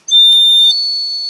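A terracotta bird whistle gives a loud, piercing steady tone of about a second, starting abruptly, with a brief breathy burst partway through and a slightly quieter continuation.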